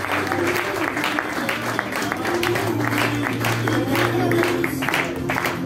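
An audience at a children's show applauds a sailing skipper, continuous dense clapping from a crowd, steady and moderately loud throughout, with a low hum underneath.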